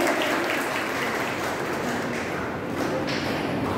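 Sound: audience applause for a student

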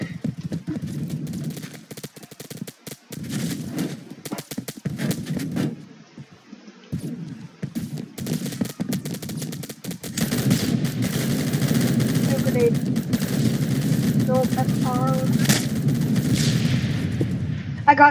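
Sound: gunfire and grenade in Phantom Forces video game

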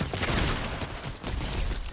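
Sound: gunfire in a video game

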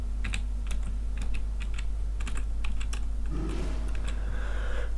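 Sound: typing a chat command on a computer keyboard

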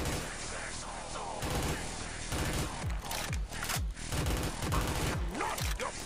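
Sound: rapid gunfire from a gun in a video game

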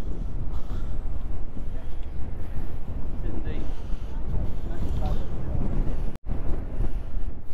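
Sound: wind at Perranporth beach

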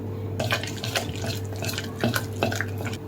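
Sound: water added little by little to flour batter

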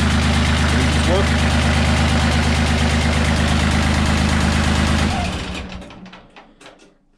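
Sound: tractor engine idling

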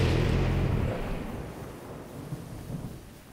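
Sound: rain and thunder in Zelda Breath of the Wild video game

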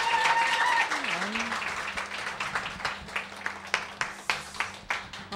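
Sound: audience applause

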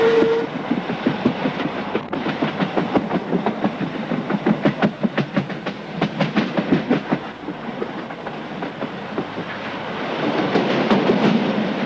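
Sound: Glacier Express train running on rails

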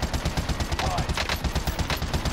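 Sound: gunfire from gold-skinned gun in Warzone video game

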